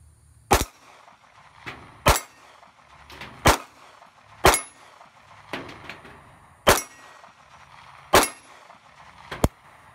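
A Ruger LCP custom pistol fired at a steel target from a backed-up distance at an outdoor range: seven sharp, loud reports, each followed by a ringing metallic clang, spaced about a second apart with quiet between.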